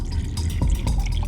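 Drinking water is poured in a short, close splashing trickle lasting just over a second.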